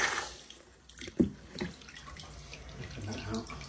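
Water running from an opened shower mixer, a steady splashing flow with a sharp knock or clunk near the start and dripping spatter, a voice briefly heard under it.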